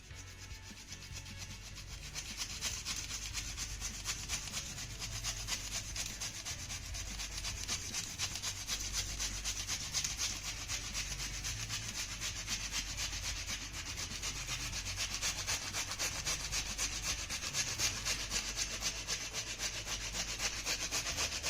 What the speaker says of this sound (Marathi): आपण आता हे टोमॅटो किसून घेऊया